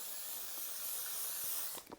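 Hairspray misted from a little farther away onto a fringe held up by hand, a steady, close hiss lasting nearly two seconds before it cuts off.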